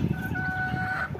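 A hen gives a drawn-out, nasal clucking call, close and fairly loud, over a low background rumble.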